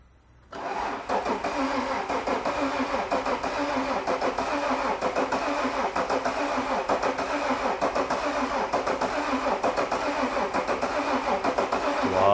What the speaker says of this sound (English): All he's got to do is get in the car and fire it up.